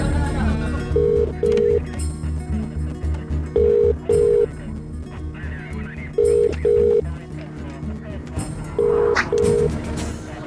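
Paired telephone keypad tones repeat in short bursts at a steady pace, sounding clearly over a low background hum with faint voices between the beeps.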